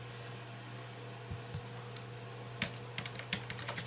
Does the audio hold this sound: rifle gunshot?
no